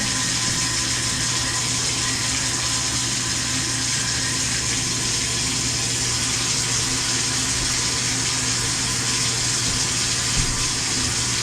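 Cold water runs steadily from a faucet with a constant, even rush and a low tonal hum underneath, continuous for the whole stretch with no pauses.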